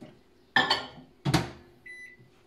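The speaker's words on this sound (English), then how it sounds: "I'm just going to melt that together in the microwave for 1 minute." A microwave oven melts chocolate pieces with coconut oil, giving a low steady hum broken by two sharp clatters and a short electronic beep near the end.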